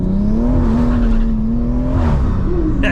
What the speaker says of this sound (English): it's just tyres making noise